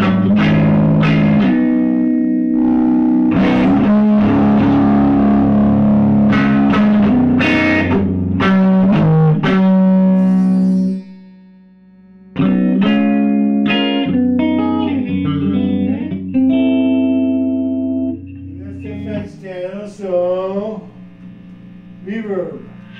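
Guitar notes played through the reverb of a Univox U-1000 amplifier ring out with long echoing tails, heavy mains hum and a brief drop to near silence midway before more reverberant playing resumes.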